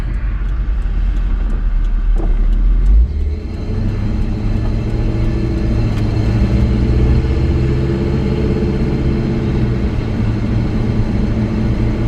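A 1984 Chevy truck drives on the road, its engine giving a loud, steady low drone with road and wind rumble throughout and a brief dip in tone, like a gear change, partway through.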